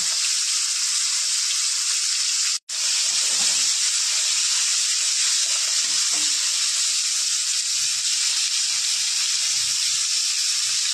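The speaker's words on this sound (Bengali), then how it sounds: "আমি নুন হলুদ মাখিয়ে নিয়েছি, দিয়ে দিলাম, লাল করে ভেজে নেব।" Salt-and-turmeric-coated prawns fry in refined white oil in a pan, giving a loud, dense, continuous sizzle that drops out for an instant early on and then carries on steadily.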